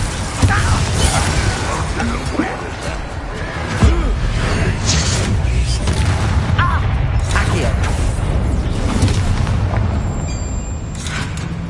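Blasting spell explosion in the video game Hogwarts Legacy, a heavy boom within dense battle noise, with crackling bursts and whooshes over continuous rumble and voices talking.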